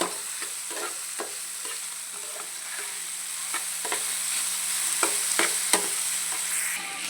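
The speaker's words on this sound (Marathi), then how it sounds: "मोठ्या गॅसवर आपल्याला भाज्या सगळ्या भाजून घ्यायच्या चांगल्या" Vegetables frying over high gas flame, a steady sizzle with repeated scraping clatters of a spoon stirring the pan, close by.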